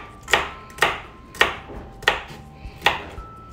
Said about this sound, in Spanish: Ahora procedemos a picar la ramita del apio.